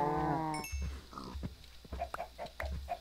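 A cow in Minecraft is struck, giving a short low moo-like call at the start followed by several brief grunting, clicking game sounds, fairly faint.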